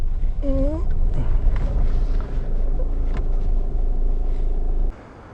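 A car reversing to park rumbles steadily up close with low drone and faint whirring, buffeted by wind noise, before the engine cuts off at the end.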